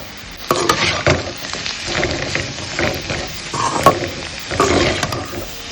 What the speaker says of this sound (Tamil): நறுக்கி வச்ச பாவக்காவை இதுல சேர்த்துடலாம். சேர்த்துட்டு இதை நல்லா வதக்கி விடுங்க.